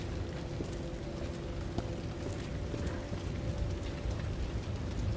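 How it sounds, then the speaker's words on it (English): Steady rain falls in the Resident Evil 2 game, a soft, even hiss with faint patter running throughout, heard alone at low level. "It is raining."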